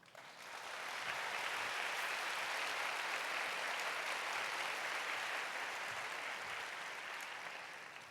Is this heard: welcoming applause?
yes